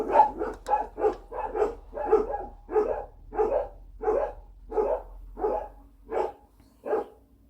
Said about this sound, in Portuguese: O latido do cachorro.